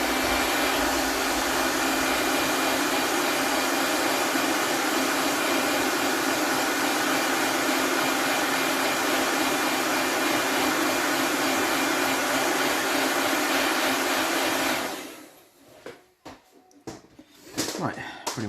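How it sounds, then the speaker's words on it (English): A hair dryer blows steadily and loudly at close range for about fifteen seconds while drying a painted tabletop miniature, then cuts off, leaving a few quiet handling clicks. "let's just hair dry this off the side."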